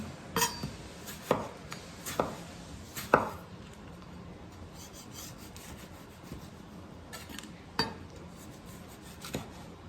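Knife cutting very ripe tomatoes for an eggplant salad, a handful of sharp, separate chops and rubbing strokes on a board, close and fairly quiet, with longer gaps and a soft kitchen hiss between, no talking.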